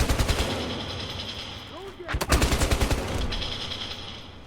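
Gunfire in the Battlefield Hardline video game: bursts of rapid automatic shots, a dense volley early on and another stretch of rattling fire in the second half, over ongoing game ambience and faint voices.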